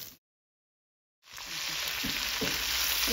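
Garlic and chopped ginger frying in butter, a steady bright sizzle that starts after a moment of silence and stays close and fairly loud, with a few soft stirring knocks.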